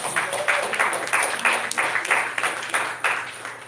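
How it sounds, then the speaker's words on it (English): A crowd applauds steadily at a tournament opening ceremony, many hands clapping in a dense, sustained patter with small swells, fairly close and with no talking over it. "A big round of applause"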